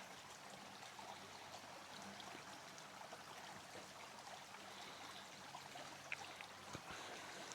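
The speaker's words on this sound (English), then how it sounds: "the water's actually running" Steady trickling stream of water running through a draining creek area outdoors, a continuous soft babble with no voices, heard at a modest distance.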